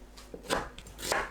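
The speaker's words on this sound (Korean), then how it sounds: "양파는 두툼하게 썰어줍니다." A knife chops onion into thick pieces on a cutting board, with a few quick, moderately loud strokes over a short moment.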